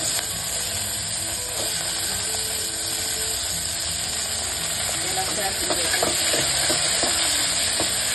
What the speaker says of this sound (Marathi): त्यानंतर घेतली मिरची, मी चिरून घेतला, ते टाकणार आहे.